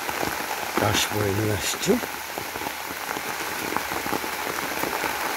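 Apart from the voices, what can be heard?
gentle rain falling in a village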